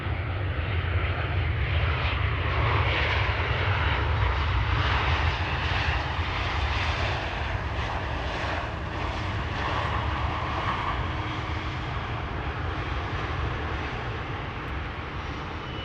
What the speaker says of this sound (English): A319, Lufty flight 2302 arriving from Munich,